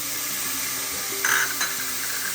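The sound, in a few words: cauliflower being added to a pan and stirred for pulao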